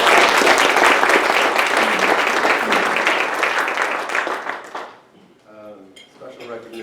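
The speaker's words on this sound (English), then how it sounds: "I think this definitely deserves a round of applause for everybody" Audience at a club meeting breaks into sustained, dense applause that rings out loudly for several seconds, then fades away, after which a voice begins speaking.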